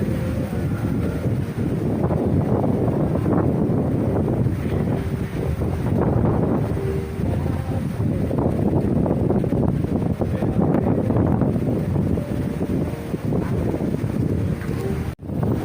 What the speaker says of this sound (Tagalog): napakalakas po ng hangin dito sa Ilagan